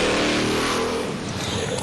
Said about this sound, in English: Listen to the tires.